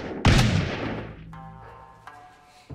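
Gunfire in the battle game Totally Accurate Battle Simulator, in a pirate campaign with a musketeer: one loud, close blast with a long decaying tail, followed by a few fainter clangs and hits. No speech.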